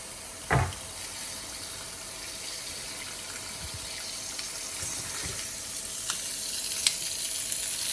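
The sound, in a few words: food with cheese sizzling in a closed Tefal OptiGrill XL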